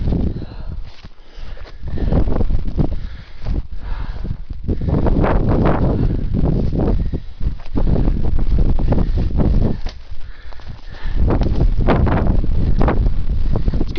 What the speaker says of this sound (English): It's getting windy, so bear with me.